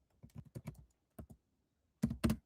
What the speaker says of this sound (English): Hold on, I'm typing it.